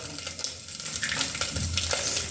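Melon seeds and cashew slices dry-roasting in a pan for boondi laddu, a continuous rustling sizzle with scattered light clicks and scrapes as they are stirred, close and unaccompanied.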